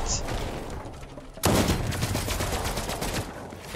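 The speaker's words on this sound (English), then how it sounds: "Wait, how did he just shoot you?" Bursts of gunfire in a shooter video game, a sudden loud volley breaking in partway through and then continuing as rapid rattling shots over game background noise.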